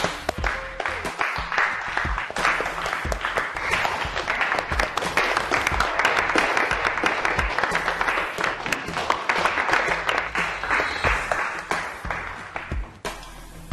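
A classroom claps after a student presentation. The applause is lively and uneven, swelling and then fading over several seconds, with some voices murmuring underneath.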